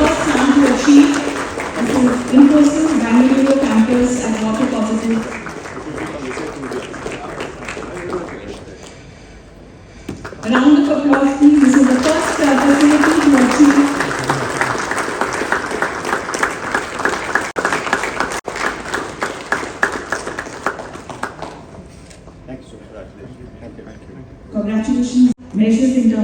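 Audience applause at a water innovation summit, a long sustained round of clapping that fills the hall, briefly dips around the middle and then swells again, with voices talking over it.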